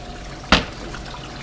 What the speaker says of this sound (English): right over here they have a little waterfall